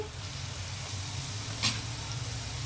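Onions sizzling steadily in a hot pan for a gongura prawn curry, a continuous close frying hiss with a brief sharper burst of steam partway through.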